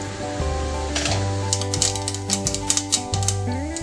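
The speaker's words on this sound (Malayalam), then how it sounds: "നമുക്ക് 1 ടീസ്പൂൺ കടുക് ഇട്ട് കൊടുക്കാം." A teaspoon of mustard seeds spluttering in about 1.5 tablespoons of hot coconut oil for green gram thoran, with scattered sharp pops and crackles over steady background music.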